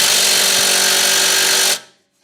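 A power tool whirs loudly and steadily, up close, removing the 7mm Allen bolts holding a BMW E63/E64 6 Series brake caliper, then cuts off abruptly into near silence.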